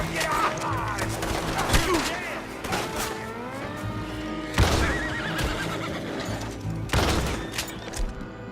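Horses of arriving riders in Red Dead Redemption 2 whinny and snort amid hoofbeats and gunfire-like cracks, busy and fairly loud, with voices talking over the commotion.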